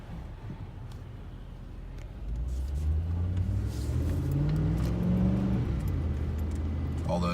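A car rolls past on a road near Pigeon Forge and Gatlinburg, its engine rumble rising and building to a steady close-up drone before easing off.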